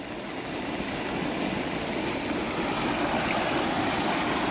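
Steady, loud rush of fast-moving floodwater after heavy monsoon rain in a village, a continuous broadband roar with no pauses or voices.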